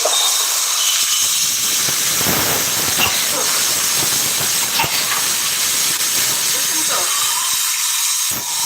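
Cauliflower coated in salt and turmeric frying in a pan, a loud steady hissing sizzle throughout, with a few faint clinks and a voice speaking briefly.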